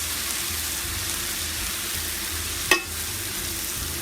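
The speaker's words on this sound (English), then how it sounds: "I'm going to add in the remaining vinegar mixture I have here that I made. Really starting to simmer." Cabbage simmering in a pan after a vinegar mixture is added, a steady close sizzle and bubbling throughout with a single sharp clink partway, no speech.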